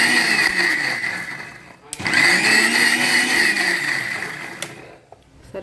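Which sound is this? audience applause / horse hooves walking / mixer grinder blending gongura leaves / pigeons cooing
mixer grinder blending gongura leaves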